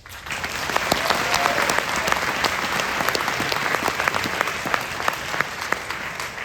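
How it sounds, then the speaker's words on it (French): Audience at the Gérardmer fantasy film festival awards ceremony applauding, dense sustained clapping from a large crowd that swells and holds, with faint voices underneath. "on va peut-être nous applaudir pour ça"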